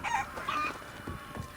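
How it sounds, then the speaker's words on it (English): Chickens in Assassin's Creed Odyssey cluck and squawk close by in a short burst of a few calls, the clucks fairly clear over a quiet game background with no talk. "Go away, chickens!"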